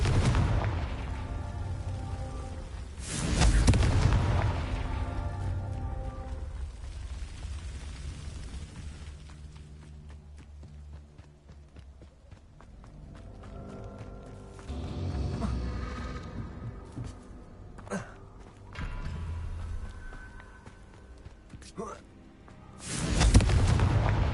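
Confringo spell explosions in Hogwarts Legacy, heavy booming blasts with rumbling tails, several bursts spread across the stretch, loud and punchy over game ambience.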